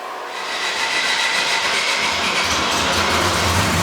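Volkswagen engine on a dyno run with a bone-stock exhaust and muffler, a steady droning roar that swells in the first half second and then holds even and quiet-toned, with no voices.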